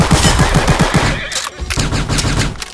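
Submachine gun fire in the war game Glory Frontline: a rapid, loud burst of automatic shots in quick succession, followed after a short gap by further sharp cracks of gunfire.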